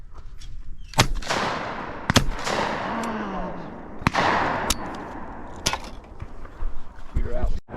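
Shotguns fire at clay targets at a shooting meet, several sharp, loud blasts spaced about a second apart with echoing tails, while people talk between the shots.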